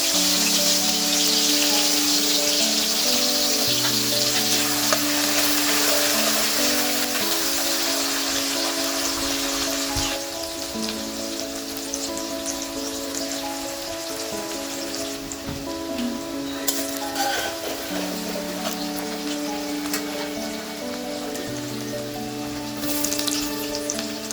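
Chopped onions frying in oil with cardamom and bay leaves for a Bengali katla fish curry make a steady, rain-like hiss throughout, with a few faint clinks, under a continuous musical backing.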